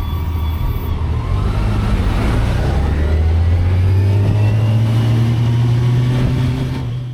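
A bus passes close by on the winding Jaufenpass mountain road in Tyrol, its engine roaring louder with a rising low drone, then easing off as it goes by.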